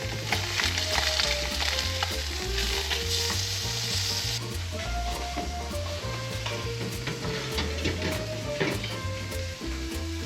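Crappie fillets sear in a hot pan beside caramelized onions, giving a bright continuous sizzle with occasional clicks and light stirring, and no one speaks.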